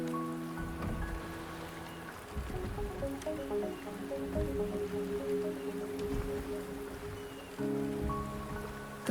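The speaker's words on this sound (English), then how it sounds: "The rain is subsiding, and the sky will soon clear." Rain falls steadily in the video game Wuthering Waves, a soft pattering and dripping spread evenly throughout, blended with sustained tonal game music and no speech.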